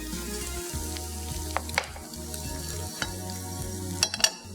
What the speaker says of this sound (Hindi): जब तक अगेन हम थोड़ा सा रोस्ट कर लेते हैं ब्लैक पेपर, कुटी हुई काली मिर्चें